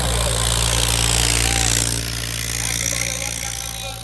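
A tractor engine at a rural tractor fair runs with a loud, steady low throb and rattling mechanical chatter close by, its pitch dropping slightly midway.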